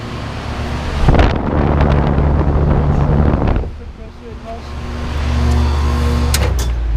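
Running Trane XE1200 air conditioner condenser from 1999 with a Climate Tough reciprocating compressor, giving a steady low hum and fan rush outdoors, with a louder noisy stretch early on and some wind.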